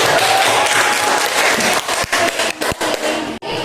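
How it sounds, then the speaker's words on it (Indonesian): Schoolchildren in a classroom clap for their classmates, a loud, dense burst of applause that fills the room and then thins into scattered, uneven claps before stopping. "Beri aplaus untuk teman-teman"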